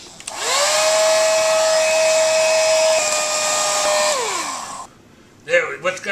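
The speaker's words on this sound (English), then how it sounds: "You're gonna fly over it with a hair dryer." A hair dryer blows over a painted portrait, whining up to a steady loud roar that holds for several seconds, then spins down and stops, followed by brief rustling.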